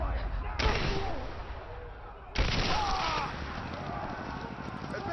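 Gunfire in Rise of the Tomb Raider: two sharp, loud blasts spaced nearly two seconds apart, each trailing off into a long rumbling decay over steady game ambience.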